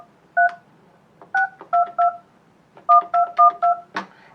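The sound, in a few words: dialing a number on a Yealink T33G desk phone keypad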